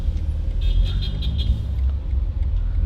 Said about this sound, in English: it's a little crazy out here right now, right? Yeah. A lot of traffic